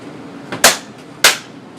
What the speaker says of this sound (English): go ahead and snap it back in place